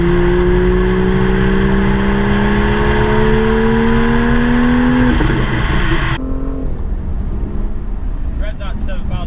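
A BMW M2 engine in Sport Plus mode revs up steadily toward 7,000 rpm, pitch climbing for several seconds, then cuts off abruptly into a lower idle with faint crackles.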